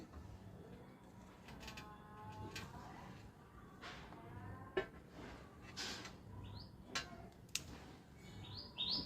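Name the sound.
sparrows chirping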